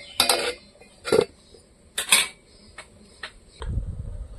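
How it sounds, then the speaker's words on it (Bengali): A lid set on a pot of Bengali fish curry made with a large kan fish: three or four distinct metallic clinks and clanks spaced about a second apart, close up, followed by a low soft rumble. "এবার ঢাকা দিয়ে রাখবো, একটু ঢাকা দিয়ে আর কিছু সময় ফুটিয়ে নেব।"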